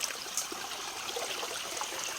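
Water flows and trickles in a stream on a rural hillside, a continuous bright babbling rush with small gurgles, close and alone with no voices.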